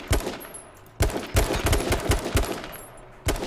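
Gunshots ring out in a shooter game, close and loud, in sharp bursts: a few single cracks, then a quick rapid string of shots, then another crack at the end, with no talking.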